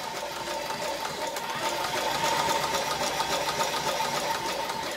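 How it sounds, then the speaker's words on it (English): A Cobra Class 4 industrial walking-foot sewing machine stitches textile with steady, rapid mechanical clatter, the needle pistoning and the inner and outer feet walking in tandem, close and continuous with no talk. "the needle is pistoning and penduluming, walking forward with the inner foot"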